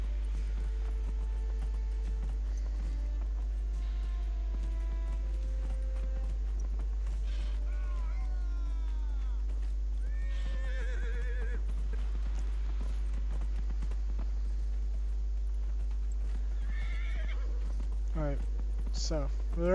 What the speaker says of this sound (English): make a horse come in from the side out of nowhere